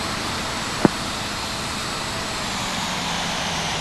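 Embraer E175 jet engines idle and hum while taxiing in the Infinite Flight game, a steady broad roar with a faint whine, one brief click partway through.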